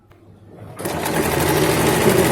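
Sewing machine stitching a straight salwar starts up after a brief quiet moment, then runs steadily and fairly loud in a continuous whirring stitch.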